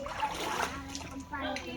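A child splashes into an outdoor pool, a short splash of water over lively voices of children and adults talking nearby.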